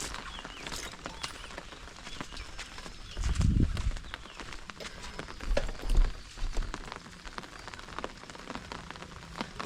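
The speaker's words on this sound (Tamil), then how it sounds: "கனமழை வர பார்க்கிறது" Heavy rain pours steadily on a traditional village in the morning, a dense close hiss with louder bursts of splashing partway through and no voices.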